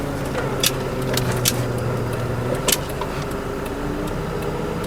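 A 1988 Honda Civic LX making a tight U-turn during a turning radius test, with a steady low engine hum and road noise inside the car and a few faint clicks, with no talking.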